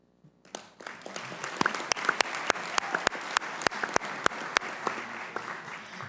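Sparse applause at a National Whistleblower Day gathering begins after a brief silence, with a few distinct, sharp nearby claps standing out over a thinner spread of clapping from the audience.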